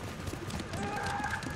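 A horse's hooves clip-clop in a steady trot in the game Ghost of Tsushima, close and moderately loud against a background hum.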